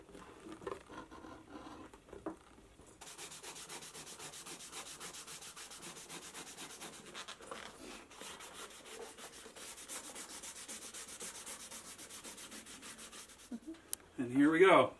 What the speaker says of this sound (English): all we have to do is burnish our edges and we're good to go